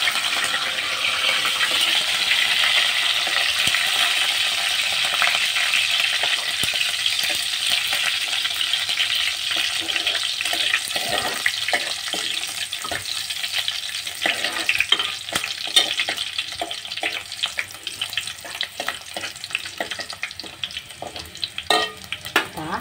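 Onion and curry leaves fry in hot oil in a pan for a clams masala, a loud continuous sizzle at first that gives way to the scrape and clatter of stirring over the hiss.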